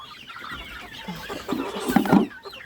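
Chickens and young chicks in a backyard poultry yard give scattered clucks and calls, rising to a louder close burst of clucking near the end.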